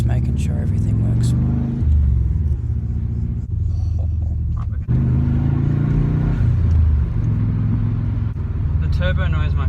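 Interior engine sound of a twin-turbo B4 car while driving: a loud, steady low rumble with rising and falling throttle swells and a brief dip partway through.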